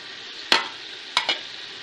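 Mutton pulao with whole green chilies being stirred in a pot, with a steady sizzling frying hiss broken by three sharp scraping stir strokes, close and moderately loud.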